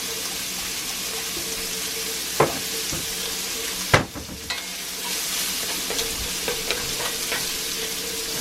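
Sausage seasoned with Old Bay fries in a cast iron pan, a steady close sizzle broken by a few sharp clacks and scrapes of stirring.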